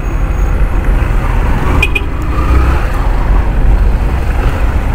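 Steady roar of road traffic in Recife, Brazil, with a motorcycle exhaust droning nearby, a couple of brief high squeaks partway through; no talking.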